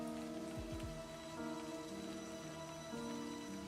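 Steady rain in the visual novel Love is Sweet But Psycho, pattering and hissing throughout, faint and alone beneath sustained musical tones from the game's soundtrack.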